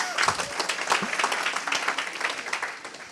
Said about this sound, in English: you should give Jeremy a round of applause now you started it